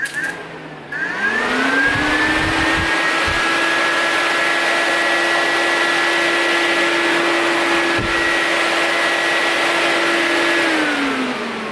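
A straight-blade electric pusher fan for a 4x4 radiator spins up after being plugged in, holds a steady, loud motor whir with a constant tonal hum, then winds down near the end.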